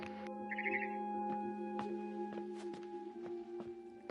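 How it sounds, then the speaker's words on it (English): A barn swallow chirps in the video game What Remains of Edith Finch, a short burst of quick, high twittering notes over a steady tonal hum, with faint footstep-like taps afterward. "It was a barn swallow going back to her nest."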